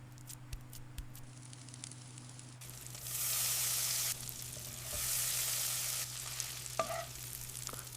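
Meat frying in a pan in an anime cooking scene, a steady hiss that swells louder in two long sizzling bursts before easing back, over a constant low hum.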